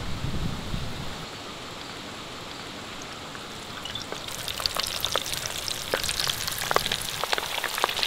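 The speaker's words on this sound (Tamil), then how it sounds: "பொறுமையான சூட்டில் இதமாக பொரிச்சு எடுக்கணும்" Chicken drumsticks deep-fry in hot oil over gentle heat, a steady close sizzle and bubbling that starts softly and grows busier and crackly with sharp pops partway through, with no talking.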